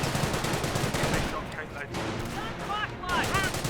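Gunfire in a Company of Heroes battle with British riflemen: a steady rattle of rifle and machine-gun fire runs throughout beneath a talking voice.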